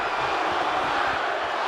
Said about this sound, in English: And the crowd are asking for one more